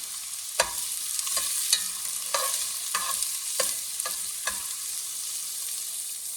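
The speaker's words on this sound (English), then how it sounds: "I have an onion. And I'm going to saute this baby." Onion sautéing in a pan for venison in red wine, a steady sizzle with sharp scraping stirs every half second or so, close and moderately loud, no talking.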